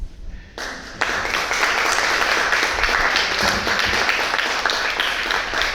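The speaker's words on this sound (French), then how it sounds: "Et applaudissons encore un instant tous les collaborateurs de Fred." A conference audience breaks into applause after a short quiet lead-in, dense clapping swelling quickly and holding at a steady, full level to the end.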